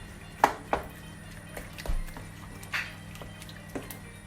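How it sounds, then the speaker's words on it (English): Macaroni being stirred into a coconut cheese sauce in a pot, soft wet squelches with a few sharp spoon clacks against the metal, irregular and close, without speech. "Let's go ahead and mix in our macaroni in there."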